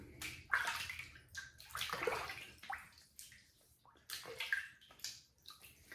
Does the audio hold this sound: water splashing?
yes